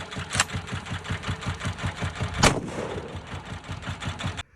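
At an outdoor range, a shotgun fires a slug at a running Suzuki Swift: one sharp, loud blast cuts through midway over the steady, rhythmic chugging of the car's idling engine.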